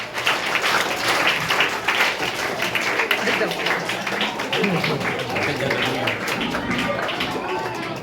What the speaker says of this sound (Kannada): ಅವರು ಸಹ ಸ್ವಾಗತ ಮಾಡಬೇಕಾಗಿ ಚಪ್ಪಾಳೆ ಮುಖಾಂತರ ಕೇಳಿಕೊಳ್ಳುತ್ತೇನೆ